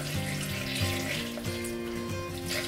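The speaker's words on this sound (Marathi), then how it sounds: "आणि आपण आता याच्यामध्ये पाणी टाकूया।" Water pours from a vessel into Malvani fish curry simmering in a pan, a steady splashing gurgle with faint sizzling underneath, heard up close with no talking.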